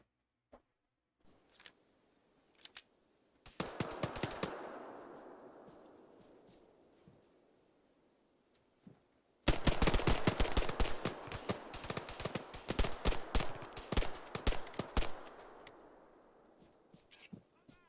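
Gunfire in the military shooter Arma 3: a few scattered single shots, then a long sustained burst that decays, followed by a loud extended volley of rapid automatic fire with echoing tails.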